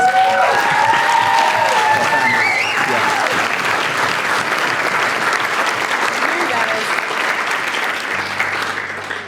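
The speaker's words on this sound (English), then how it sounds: "So I'd like to raise a round of applause, please." Wedding guests at Buxted Park Hotel give a full round of applause during the speeches, a loud, dense clapping that carries on steadily for several seconds and thins slightly near the end, with a voice briefly heard at the start.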